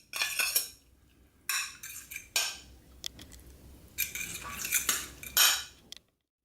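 A fork scrapes and clinks against a baking dish while mixing grated cheese and liquid cream into pasta and minced meat for a gratin, in irregular close bursts of metallic scraping separated by quiet pauses.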